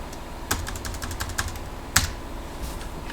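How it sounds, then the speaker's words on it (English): Several quick keystrokes on a computer keyboard while numbers are entered, with two sharper, louder key strikes standing out among lighter taps over a steady low hum. "just type in 1 to 1 million"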